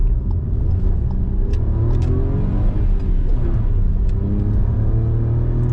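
A car with an engine warning light on and a removed fuse, accelerating while merging onto a main road; loud, close low engine rumble with rising tones as it speeds up, steady road noise throughout.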